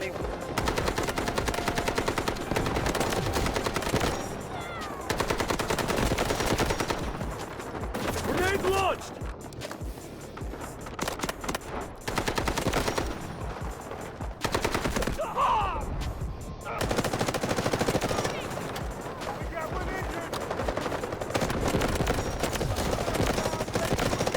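Rapid automatic gunfire in a first-person shooter, long dense bursts that keep going through nearly the whole stretch, loud and close, with brief gaps between volleys and a voice heard in places.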